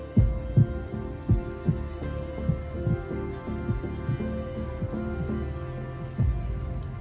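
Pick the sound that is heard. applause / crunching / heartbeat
heartbeat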